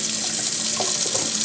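Steady rush of tap water running into a container holding tomato seeds, close and fairly loud, with no talking.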